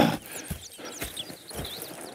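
Horse hooves clop in a steady walking rhythm with faint bird chirps and outdoor ambience, moderately close and fairly quiet, in the video game Red Dead Redemption 2.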